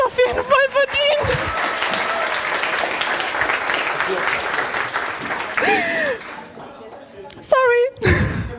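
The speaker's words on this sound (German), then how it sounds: "Die haben den Applaus auf jeden Fall verdient." Audience applause at a youth hackathon's final presentations in Hamburg, a dense steady patter of clapping that fills most of the stretch, with brief voices and whistly tones at the start and near the end.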